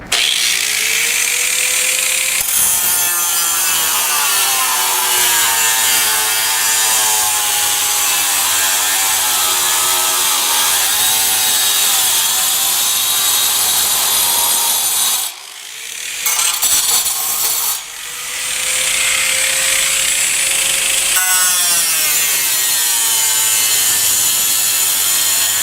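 A power saw grinds continuously through steel and cement board, a harsh whining screech with shifting pitch, briefly dropping off midway before cutting resumes.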